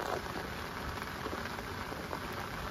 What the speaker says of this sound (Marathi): एक तर पाऊस लागता बघा, कंटिन्यू चालू असा पावसाळ्यात